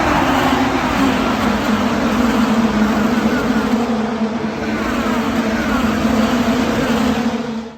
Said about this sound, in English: I'll show you what you experience from the pits. This will be the first lap of the 108th running of the Indianapolis